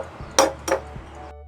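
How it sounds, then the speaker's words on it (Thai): Two sharp, quick cracks sound close together, like eggs tapped hard against the rim of a cup, then quiet. "เราตอกไข่ใส่ถ้วยนะครับ"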